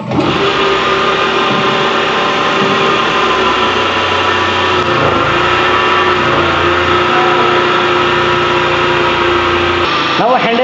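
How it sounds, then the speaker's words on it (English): A DC shunt motor drives a coupled three-phase alternator, giving a loud, steady electric whine and hum that holds constant throughout, with no breaks. "Now in this alternator coupled with DC shunt motor gets started."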